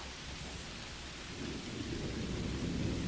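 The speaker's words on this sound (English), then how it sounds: "Raining." Steady rain hisses over a deep, rolling rumble of thunder that builds gradually toward the end, with no voices.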